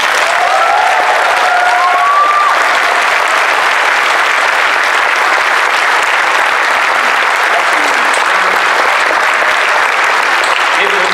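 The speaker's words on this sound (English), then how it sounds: "Can we just give a round of applause for everybody?" A large crowd applauds at the closing ceremony of a fan convention, loud sustained clapping that fills the room without a break, with a few cheers and voices rising above it.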